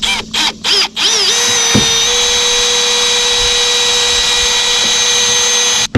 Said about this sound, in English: We're going to drill our 3 holes.